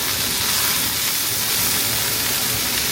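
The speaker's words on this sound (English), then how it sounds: "We're gonna stir fry the rest." Radish and onion stir-fry in oil over medium-high heat, giving off a steady, close, dense sizzle with no pauses.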